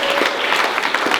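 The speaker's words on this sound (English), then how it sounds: "another round of applause" A brief burst of applause from a small group at a CrossFit Open workout event, clapping steadily and fairly close.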